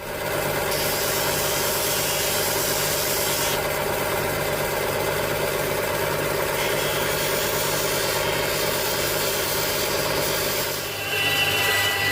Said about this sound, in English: stick this on the sander, sand that to make sure it's really flat